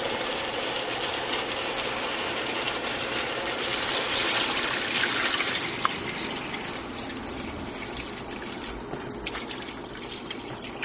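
Water pouring into a gumbo pot of browned sausage and chicken, a steady broadband gush that swells slightly midway, with no talk.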